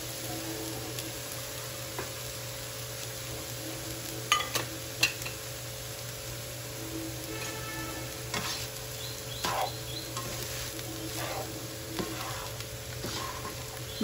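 Dal fry with coriander is stirred in a pan, a soft continuous sizzle broken by scattered light scrapes and clinks of the spoon, fairly quiet and with no voices.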